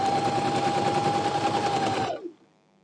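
A Singer 8280 sewing machine stitches a sleeve in a steady, rapid, loud mechanical whir with a high motor tone that runs for about two seconds and then stops abruptly.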